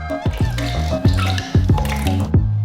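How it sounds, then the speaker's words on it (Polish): Egg whites pour from a measuring jug into mixer bowls while making large doughnuts. The liquid lands in close, wet glugging splashes, several separate pours with bubbling drips in between, loud and with no talking. "Białka zaczerpujemy za pomocą dzbanka z miarką, a do robota wlewamy dokładnie 300 ml, a do mikserów odmierzamy o połowę mniej"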